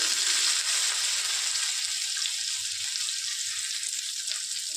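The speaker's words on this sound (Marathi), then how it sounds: "दोन तीन चमचे मी तेल टाकून घेतले आता आपण याच्यामध्ये हे बोंबील टाकू" Dried bombil fish fry in a few spoons of oil on a flat pan, making a loud, dense, continuous hiss that holds steady throughout with no voices.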